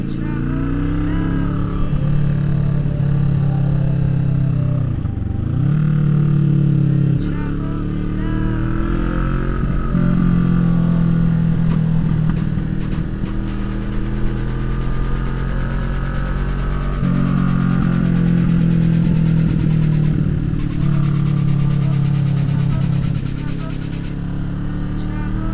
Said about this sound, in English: Wondering why my bike sounds so good